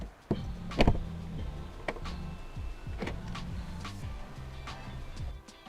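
A Land Rover L405 Range Rover door unlatches through keyless entry with a sharp click and clunk, followed by a mechanical whirring and ticking of motors and latches, close by and fairly quiet with no talk.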